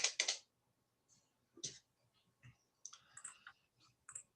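Several separate clicks from a computer keyboard as a key such as Enter is pressed, crisp and close, with a couple of quick strokes at the start and sparser taps after, in an otherwise quiet room.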